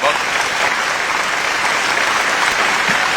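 An audience at a mushaira poetry recital for Mehshar Afridi breaks into dense, steady applause that stays loud and even throughout, with no break or fade.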